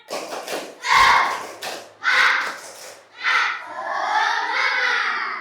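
Schoolchildren in an Indonesian primary madrasah classroom repeat a rhythmic spirit clap-chant, their voices and claps rising in several loud group bursts before settling into a longer, steady chorus.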